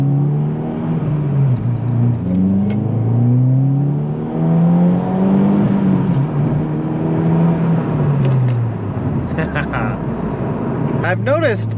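A new Subaru WRX engine revs up and down through rising and falling pitch sweeps, close and loud, with a few sharp exhaust crackles near the end.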